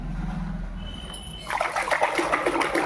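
Hot water with lemon stirred in a foot basin for a homemade pedicure, a low murmur giving way after a second and a half to steady, close sloshing and splashing.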